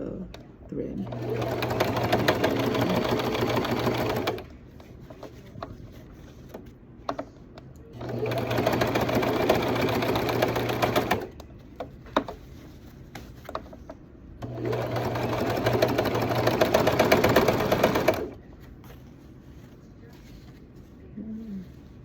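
A sewing machine runs in three long bursts of rapid, even stitching, close and steady, with short pauses between runs while a person talks.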